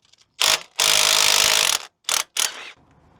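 Ratchet wrench loosening dry suspension bolts on a Voge 800 Rally motorcycle: several close, loud bursts of rapid clicking, one long run followed by two short ones, with brief silences between.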